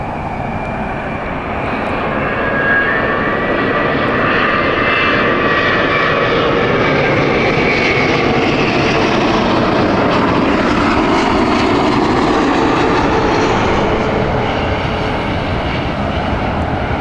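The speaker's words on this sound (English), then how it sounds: "We also have Space Odyssey inbound next, VBOB from Virgin. This is their Virgin Airbus" Virgin Atlantic Airbus A330neo jet landing at Heathrow in light rain, a loud, steady engine roar that swells and holds close throughout without talk.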